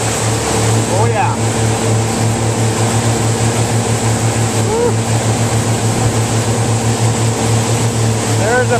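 A twin-engine Sea-Doo 230 boat runs at around 15 to 18 mph, throwing a big wake. Its engines make a steady, loud droning rumble with rhythmic pulsing, while water and wind wash over the sound.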